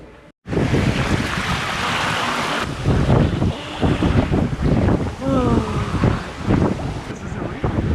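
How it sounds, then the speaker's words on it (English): Strong wind buffets the microphone outdoors in Iceland, a steady loud roar with gusts that swell and fade, while people talk over it. "It's a little windy."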